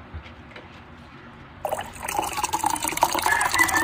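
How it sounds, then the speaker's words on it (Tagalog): A Milo chocolate drink mixture for homemade ice candy is poured out partway through, a rising gush and trickle of liquid filling a container after a quiet start. "buhos mo na to, Bewa"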